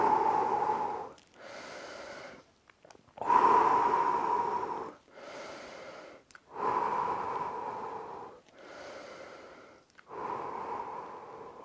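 Heavy, loud breathing during a short rest in a home fat-loss workout, with six or seven long, rhythmic breaths alternating in and out, some with a snorting edge, close to the mic and with no talk.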